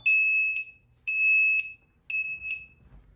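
A newly installed school fire alarm system under testing sounds a shrill electronic alarm in three long beeps, each about half a second, with short gaps between, loud and close.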